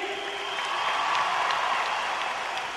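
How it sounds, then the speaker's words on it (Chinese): Steady applause from a concert audience at a 2009 Singapore show, dense and sustained throughout at even loudness, with no voices over it. "再用一些掌声给你自己"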